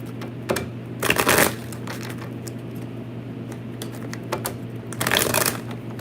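Tarot cards being shuffled in several quick riffling bursts, close by, separated by pauses with a low steady hum underneath.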